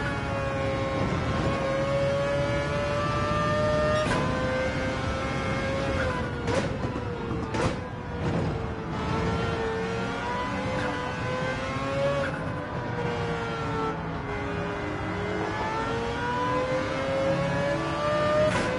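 Mazda race car engine in Gran Turismo 7, a steady high-pitched whine that rises and falls with gear changes, with occasional sharp shift clicks, continuous and moderately loud.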